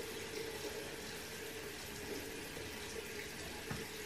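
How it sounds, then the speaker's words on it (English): Water running from a tap into a container of hair gel product, a soft, continuous trickle and splash at low volume with no talking. "So I'm just gonna add some water in there."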